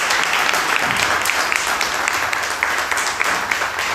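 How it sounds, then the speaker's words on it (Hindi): An audience at a church gathering claps for its leaders, a dense, continuous patter of many hands at moderate loudness. "उनके लिए एक बार ताली बजा दीजिए।"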